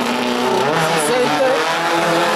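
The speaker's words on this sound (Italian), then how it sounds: "Si sente il motore boxer Alfa Romeo." Race car with an Alfa Romeo boxer engine at a hillside slalom in Tiriolo, Calabria, roaring steadily and loudly nearby, with shifting engine pitch throughout and no pauses.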